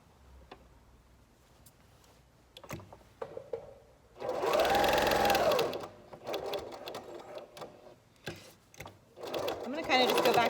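Sewing machine stitching back and forth over over-the-ear elastic straps on a fabric facemask, a close, loud mechanical whirring burst of about two seconds, then another short run, with a person talking around it.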